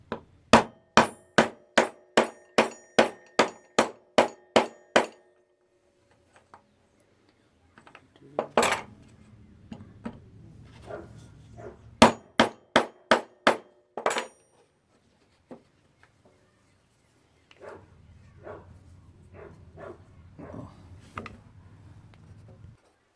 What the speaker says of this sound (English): And I got a small mallet. Doesn't have to be anything special. This is what I have. Using the nylon side.